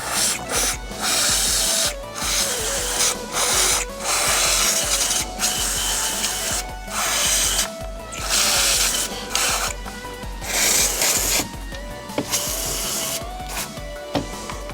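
Pro Électronique electronics cleaner sprayed onto the mass air flow sensor of a BMW E39 525i with the M54 engine: repeated hissing bursts with brief gaps, close and fairly loud, over soft background music.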